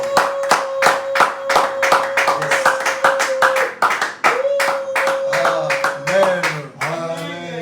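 A church congregation claps in a steady, energetic rhythm to acclaim the Lord, with sharp, evenly spaced hand claps over a sustained sung or hummed tone, then singing voices take over toward the end.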